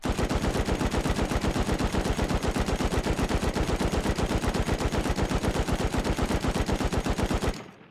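Sustained automatic gunfire from a video game recoil test, a rapid, even stream of loud shots lasting about seven and a half seconds before cutting off abruptly.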